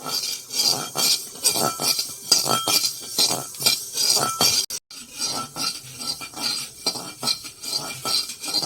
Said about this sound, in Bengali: এখন ধনে জিরাগুলো সুন্দর করে ভেজে নেব লাল লাল করে